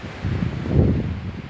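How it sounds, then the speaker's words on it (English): Strong wind buffets the microphone high up on a Utah mountain saddle, a steady low roar and rumble with no voice. "Oh man, it is so windy up here."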